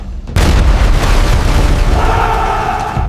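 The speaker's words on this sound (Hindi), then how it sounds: "तोपों की गूंज से कांपती हुई धरती" Cannon fire as a sound effect for the siege of Jhansi fort: a loud, abrupt boom that bursts out after a brief hush, then rolls on as a long rumbling roar of explosions that slowly thins out.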